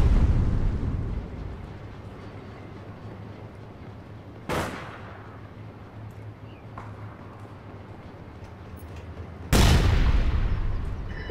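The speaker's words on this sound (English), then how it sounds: "Ah, grenade launcher, man." Grenade launcher explosions in the shooter APB Reloaded, with a heavy blast at the start, two sharp booming detonations spaced several seconds apart with a smaller crack between, and ambient rumble in the gaps.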